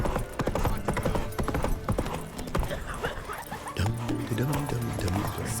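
Roach the horse gallops in The Witcher 3, hooves clip-clopping in a quick, steady rhythm under a busy game soundscape with voices talking and a dog barking and whimpering nearby.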